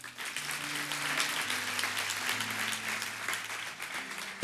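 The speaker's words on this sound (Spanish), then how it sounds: "Denle un aplauso a Dios por eso." A church congregation claps together in a sustained, fairly even round of applause, with an organ or keyboard holding soft chords underneath and no speech over it.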